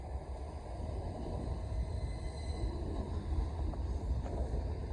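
Southern electric train 377314 pulls away from Tonbridge station toward Redhill, a steady low rumble and rolling noise with faint wind buffeting, heard from the platform without talk.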